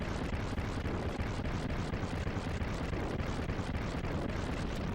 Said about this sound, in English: when the explosion stops and whatnot